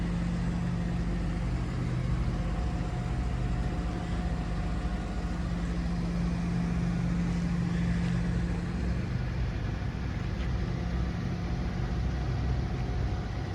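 A 2013 Mazda MX-5 2.0 Kuro in Crystal White on the move, a steady engine drone and road roar, constant and fairly loud throughout with no talking.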